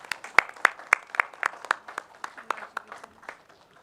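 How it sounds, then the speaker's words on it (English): A small audience claps in recognition of BPCL: about fifteen distinct, crisp handclaps at an uneven but steady pace, the first few strongest, then gradually thinning and fading. "So big applause for BPCL."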